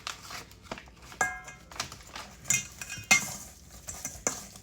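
A spoon mixing curry shrimp in a bowl, producing intermittent scraping clinks and soft wet stirring knocks in an irregular rhythm, close and with no talk.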